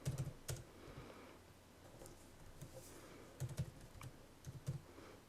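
Quiet, close keystrokes on a computer keyboard come in short irregular clusters of clicks as a code is entered, with soft pauses between bursts.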